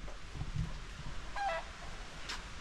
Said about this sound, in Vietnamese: Đấy, có cả gà nữa.